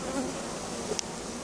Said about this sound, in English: We've got quite a lot of bees inside the hive.